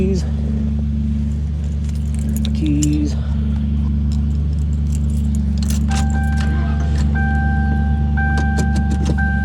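A bunch of keys jangles and clinks close up in a vehicle while a steady engine idles underneath, with brief speech around it.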